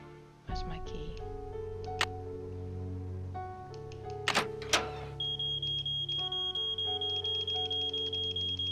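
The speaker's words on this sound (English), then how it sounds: "Can I just shut off the alarm that it doesn't go off anymore?" Electronic alarm in a Nancy Drew mystery game, a steady high beeping tone pulsing in a regular rhythm through the second half, with game sounds and a person talking over the start.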